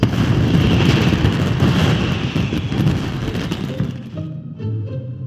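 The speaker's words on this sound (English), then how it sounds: "Was that an explosion? It sounded like fireworks." Fireworks burst in a video game, a dense rumbling barrage of explosions and pops that fades out, leaving soft musical tones at the end.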